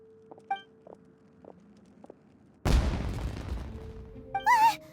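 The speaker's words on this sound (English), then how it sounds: "Was that an explosion? It sounded like fireworks." A firework-like explosion in a video game bursts in loudly and alone after a few faint short blips, leaving a rumbling, crackling tail that lingers for a couple of seconds and ends with a rising whistling chirp.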